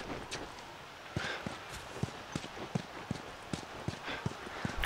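Steady clip-clop of horse hooves walking at a regular pace in the PS3 video game The Last of Us, moderately close, with a soft background hum and no talking.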